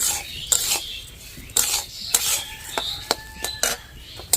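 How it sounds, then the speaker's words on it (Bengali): Dry rice is stirred and roasted in a pan, making repeated rasping scrapes and gritty rustles from a utensil dragging through the grains, arriving in uneven strokes roughly every half second, close and without speech. "এইভাবে অনবরত নেড়ে চেড়ে চালটাকে ভালো করে ভেজে নিতে হবে"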